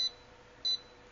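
A Rampmaster kiln controller keypad gives two short, high electronic beeps, one at the start and another just after the middle, clear and close against a faint background hum.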